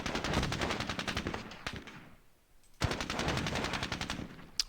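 Sustained machine gun fire in the turn-based war game Squad Battles: Tour of Duty, two long rapid bursts of dense, loud automatic shots separated by a short quiet gap, with no talk over them.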